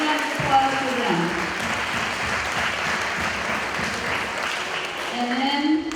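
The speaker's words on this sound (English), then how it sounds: "Another round of applause for them." Applause from the audience at an elementary school's Wizard of Oz production fills a room in a thick, even patter, with a voice briefly audible over the start and again as it fades near the end.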